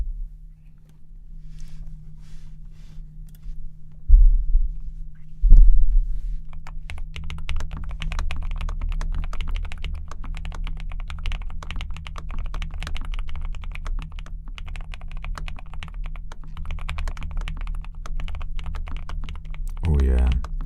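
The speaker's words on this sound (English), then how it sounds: "this new keyboard, it sounds so nice" Rapid, steady typing on a new cream-colored mechanical computer keyboard, close and clear for most of the stretch, with a low background hum and a couple of louder knocks early on.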